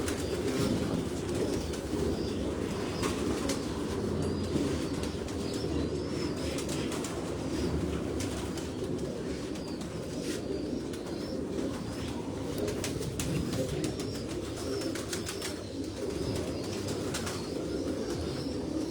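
Pigeons on a rooftop coo steadily and densely throughout, a continuous flock murmur with occasional chirps and faint wing flutters, fairly close and unbroken, with no talk.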